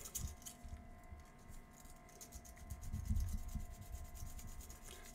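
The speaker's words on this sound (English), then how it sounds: "Now you just take your little piece of sandpaper." A joint in 3D printing filament is sanded by hand with a small piece of sandpaper, giving quiet, close rubbing strokes over a faint background hum.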